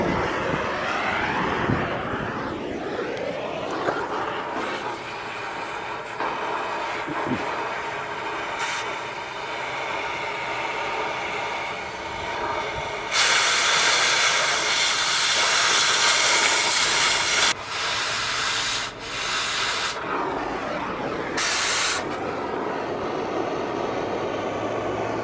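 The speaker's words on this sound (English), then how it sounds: "I'll try to cut the back of these nuts off so don't mess up the bumper in case it doesn't fit." Power tool cutting the backs off nuts on the bumper of a 1980s cabover truck, a loud sustained hissing grind in long bursts with pauses between, close by and alone.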